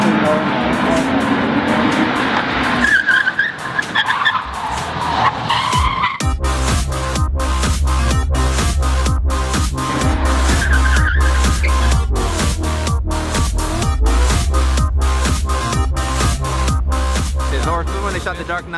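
A car skidding with tires squealing during stunt filming, loud and sustained, with engine roar and squeal shifting across a long run, preceded by a quieter stretch with voices talking.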